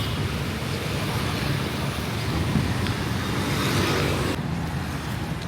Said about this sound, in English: There's a lot of traffic out front